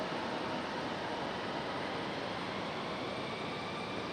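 An Airbus A319/A320 airliner arrives at Raleigh-Durham airport in stormy weather, a broad, steady roar of engine noise that holds even and loud, with no voices.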